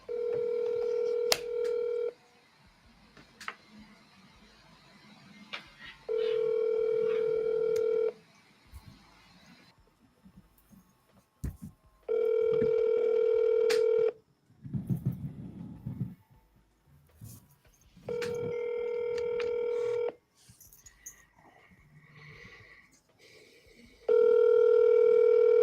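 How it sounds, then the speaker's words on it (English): A cell phone places an outgoing call: dialing tones, then a repeating ringback pattern of long, even rings separated by pauses, heard alone at moderate level with faint background noise between rings. "So I'm just going to call him from my cell number."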